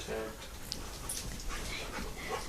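A Cavalier King Charles spaniel whimpers in soft, short bursts close by, while people talk over it in a home setting.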